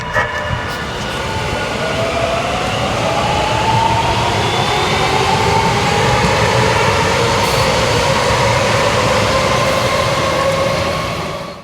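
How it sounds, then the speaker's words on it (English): A small commuter train pulls in for a stop, its steady, loud rumble and rolling hum filling the whole stretch with faint squealing tones overhead and no voices. "I like watching the train, even if it's just a little commuter train just coming in for a stop."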